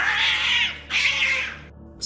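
A cat gives two harsh, breathy hisses in close succession, loud and close, with a short gap between them and a faint sharp cut-off sound at the end.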